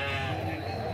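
A goat bleats loudly and close at a goat market in Canafístula de Frei Damião, Alagoas, one sustained, wavering call filling the short moment.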